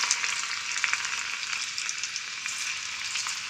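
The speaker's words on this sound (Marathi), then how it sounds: "आता आपलं ऑइल गरम होत आहे त्यामध्ये आपण लसूण" Garlic sizzles steadily in hot oil for a dal khichdi tadka, a close, continuous crackling hiss with no voices.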